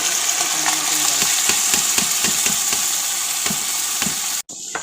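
Rice sizzles and fries in hot oil in a pan, a steady bright crackle with soft rhythmic stirring scrapes, loud and close, cutting off abruptly near the end.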